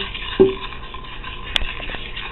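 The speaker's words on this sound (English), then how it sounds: "you guys want to keep stirring this consistently" A spoon stirs a thickening milk mixture for red velvet cake in a pot, making soft scraping and light clinks, with one sharper tap near the end; no one speaks.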